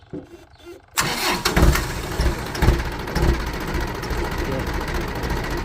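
Tractor engine cranking and firing into life, then settling into a loud, rough, steady idle with knocking pulses, someone talking over it.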